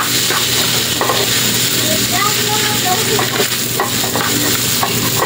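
Rice for egg fried rice tossed and stirred in a hot pan, a steady loud sizzle with scraping strokes of the spatula, while a person talks over it.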